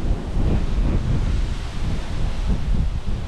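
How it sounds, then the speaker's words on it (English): Steady wind roars and rumbles against the microphone without a break, a dense low buffeting with no voices. "And yeah, it is windy."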